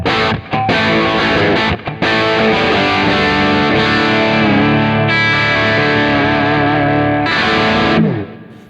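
A distorted electric guitar plays sustained, mid-heavy chords and riffs, loud and continuous, ringing out and fading at the end.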